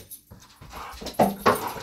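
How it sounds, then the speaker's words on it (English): A small puppy whimpers and yips in a few brief, high, tonal cries that grow louder toward the end, with soft rustling in between. "That's the little puppy."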